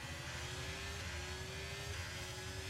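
An F1 car from the F1 23 game accelerates with a sustained high engine whine rising steadily in pitch, a continuous smooth drone without talk.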